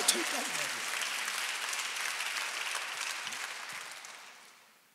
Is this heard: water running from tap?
no